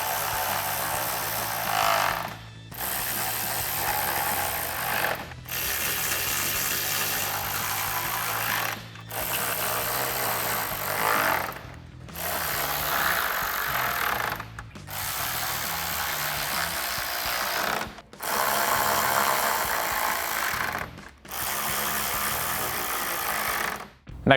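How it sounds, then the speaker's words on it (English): A ratchet fitted with a 10mm socket backs out bolts on a 2019-2023 RAM 1500 grille, giving a steady, loud mechanical clicking in long runs separated by brief pauses, with no talking. "And we'll do the same thing with our 10mm socket."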